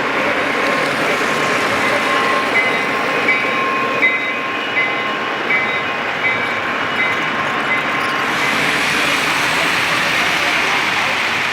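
A Lionel Challenger model train runs steadily on a club layout, giving a continuous close whirring rumble with faint rhythmic clicking from the track and no break in the sound.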